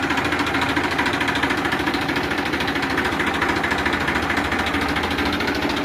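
A 241 double-clutch farm tractor engine runs steadily at idle nearby, a constant low throbbing rumble with no pauses, varying little in loudness.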